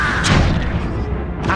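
The Incendio fire spell from Hogwarts Legacy erupts as a short, loud, roaring whoosh with a dense crackling blast, lasting barely over a second.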